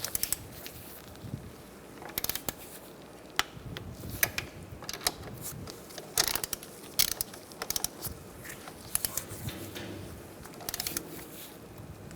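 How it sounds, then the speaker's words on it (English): A ratchet clicks in short bursts as it torques wheel hub bolts on a 2007–2013 Mini Cooper during front wheel bearing hub replacement. The clicks are close and fairly quiet, with gaps between the runs, and no talking. "First, we're going to torque these bolts to 14 foot-pounds."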